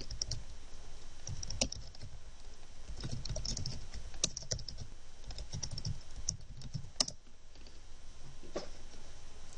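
Rapid, uneven keystrokes on a computer keyboard as a search is typed, close and clicky with short pauses between bursts, over a faint background hiss.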